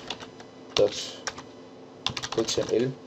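Computer keyboard keys clack in two quick bursts of typing while a file name is entered, close and fairly crisp, with someone speaking softly between bursts.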